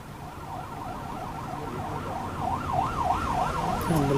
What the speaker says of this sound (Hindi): एम्बुलेंस आ रही